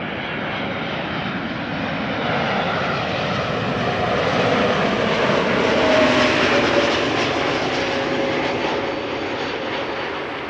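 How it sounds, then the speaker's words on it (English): A Royal Jordanian Airbus A320neo arriving at Schiphol from Amman gives a continuous jet engine roar that swells toward the middle as it passes closer, then holds steady, with no talking. "Here we have Royal Jordanian arriving from Amman. A320neo."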